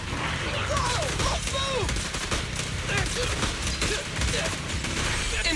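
Rapid continuous gunfire rattles through a Zenless Zone Zero battle, a dense sustained volley of shots, loud and close, with character voices shouting over it.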